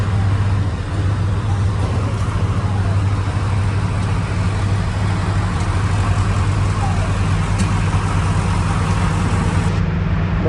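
A tractor engine runs at a steady idle on a wet, waterlogged field before pulling forward, a loud continuous low rumble with constant road-vehicle-like drone throughout and no other sound rising above it.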